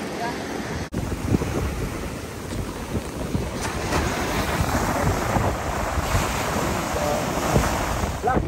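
Ocean surf rolls in a steady broadband wash with heavy wind buffeting the microphone, including a sharp gust-like dropout near the start.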